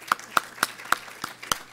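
A handful of separate, crisp claps ring out one by one at a law school breakfast event, sparse and unevenly spaced rather than a full ovation, with quiet room tone between them.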